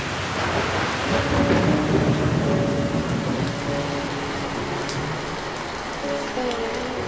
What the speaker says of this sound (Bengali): মাঝে মাঝে বৃষ্টি নামে